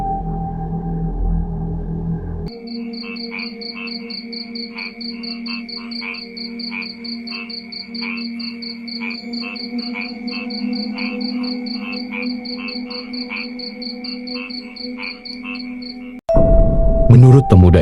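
Frogs croak in a rice field at night, a dense rhythmic chorus of repeated pulsing calls with insects trilling behind, loud and close, cut off abruptly by a burst of other noise at the end.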